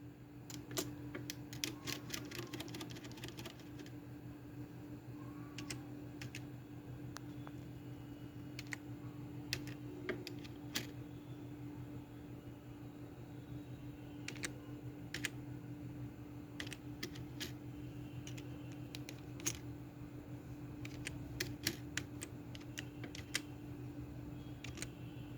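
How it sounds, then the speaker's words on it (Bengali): Steady keyboard typing on a home computer while writing poetry, with irregular clicks and clusters of keystrokes throughout, close by and quiet over a constant low electrical hum, no voices. "সেই জন্য আমি কম্পিউটারে লিখি।"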